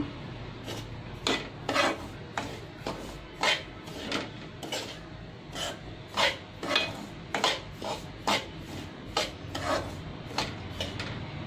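A spoon scrapes and clinks against a metal pan as semolina (rava) is stirred while roasting over a low flame, a steady rhythm of sharp rasping strokes roughly every half second, close and moderately loud, with no talking.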